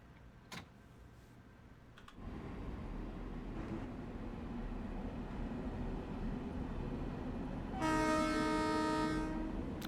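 A simulated MTA M3A commuter train on the Harlem Line in Train Sim World 2 rumbles steadily, and a bright horn blast sounds near the end over the running noise.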